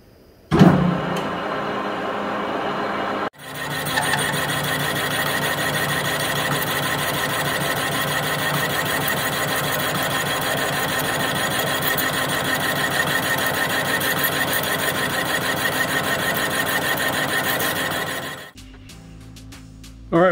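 A lathe turns down a prototype custom brake caliper bracket for a truck, its steady machining whir running continuously for about fifteen seconds between brief quieter pauses at the start and end.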